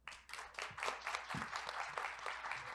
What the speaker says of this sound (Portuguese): Então, vamos aplaudir, e enquanto ela recebe o prêmio,